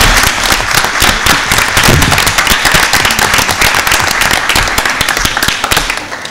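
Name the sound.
audience applause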